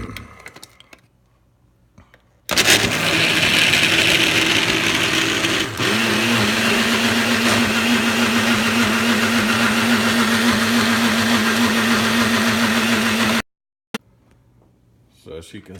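A blender purees cilantro chimichurri sauce with lemon, starting abruptly into a loud steady whirring drone for about eleven seconds, then cutting off cleanly.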